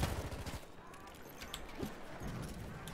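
Rapid bursts of gunfire in the WWI shooter Battlefield 1, with sharp repeated shots scattered through loud, busy battle noise, some cracks standing out near and others further off.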